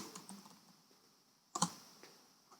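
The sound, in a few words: typing slide text on a computer keyboard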